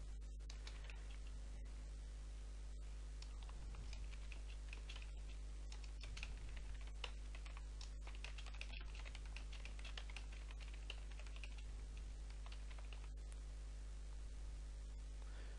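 Keys on a computer keyboard clatter steadily as text is typed into a web page's post box, close and fairly quiet, with a constant low hum and hiss underneath and no talking.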